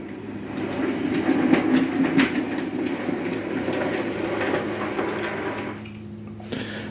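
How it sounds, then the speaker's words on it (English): An 00 gauge model train backs a wagon into a siding on a small layout, giving a steady close rumble and rolling wheel noise with faint clicks, easing off near the end. "Get the wagon put on and we'll back him into siding"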